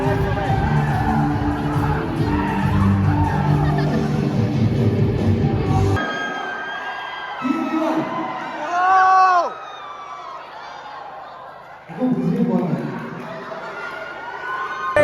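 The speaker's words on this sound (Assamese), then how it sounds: "একদম বিহু বিহু না চিঞৰি আছে" A crowd shouting and cheering at a Bihu celebration held by Assamese college students, loud and dense at first, then dropping away to scattered voices, whoops and bursts of crowd noise with speech over it.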